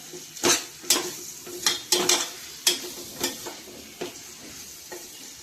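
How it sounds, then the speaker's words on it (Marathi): Bitter gourd being stir-fried in spice masala in a pan: a series of about ten scraping, clattering spatula strokes over a low sizzle, close and alone without talk. "मसाल्यामध्ये आपल्याला कारला चांगलं परतवून घ्यायचं आहे."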